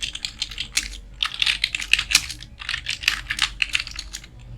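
Fast, steady clatter of keystrokes on a computer keyboard while entering data into an Excel spreadsheet. The typing is close and continuous with no talking.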